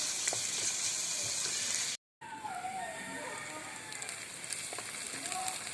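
Onions sauté in a pan for chicken parts gravy, making a continuous crackling sizzle with a brief cut in the middle, with a few faint scraping sounds from stirring.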